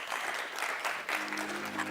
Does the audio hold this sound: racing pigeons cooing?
no